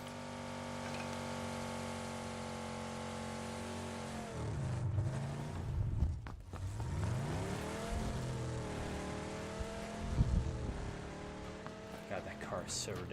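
A video game car drives along with a steady engine drone, then revs and shifts pitch several times in the second half, while players talk over it.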